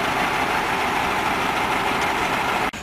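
A heavy truck engine labours on a muddy uphill stretch of the Transamazônica highway, a loud, dense, continuous rumble close by that cuts off abruptly right at the end.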